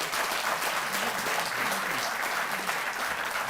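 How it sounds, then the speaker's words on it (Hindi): Sustained, dense applause fills a large hall at a Delhi government award ceremony honouring Tokyo Olympic athletes, a steady roar of many hands clapping at close range without a break. "जोरदार तालियां।"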